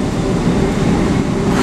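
A train rumbles past close by, a steady loud roar of rail noise heard alone for a moment.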